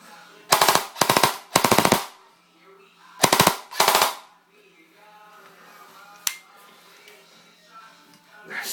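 An M16 rifle with a stubby build fires several loud bursts of automatic fire at close range, with a short pause between groups, then trails into quieter handling noise and a single sharp click.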